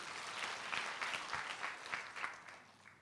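Church congregation at a morning prayer service clapping loudly, a dense burst of applause with rhythmic pulses that swells then gradually fades.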